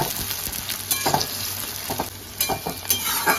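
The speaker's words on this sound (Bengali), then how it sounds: "এবার পেঁয়াজটা একটু ভেজে নেব।" Chopped onion fries in a pan, a steady close sizzle broken by repeated scraping stir strokes, with no voices over it.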